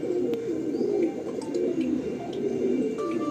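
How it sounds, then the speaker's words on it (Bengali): A male Kaldam pigeon cooing close by, a low steady rolling coo repeating without pause, with faint chirps in the background. "এটা হলো নর পায়রা"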